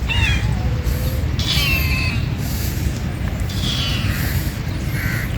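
Cats meow and yowl at a crowded animal shelter, with several overlapping cries over a constant loud background rumble.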